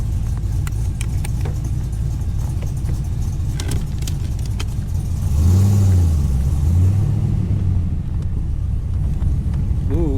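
A car engine runs steadily while driving on a hot summer day in Tampa, Florida, a loud, close cabin rumble that swells into a brief rising rev midway before settling again, with no talk.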